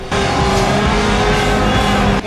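A giant remote-controlled car drives with a loud, steady motor whine and droning tonal hum close by, lasting a couple of seconds with no talking.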